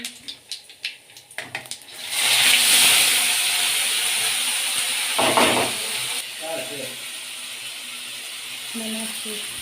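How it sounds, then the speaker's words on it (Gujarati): Hot oil sizzles steadily as vegetables are tempered for Maggi noodles in a home kitchen, a broad hiss that swells loud after a few soft clinks and holds under occasional brief talk. "તેને વઘાર થઈ રહ્યો છે"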